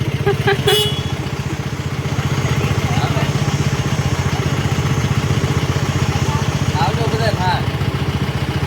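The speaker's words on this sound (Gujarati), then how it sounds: "પ્રવીણભાઈ જાય બાઇક લઈ વઢવાણ જાય" Motorcycle engine running nearby on a road in Surendranagar, Gujarat, a continuous mid-pitched drone with rapid engine pulses, a brief horn toot near the start and faint voices in the background.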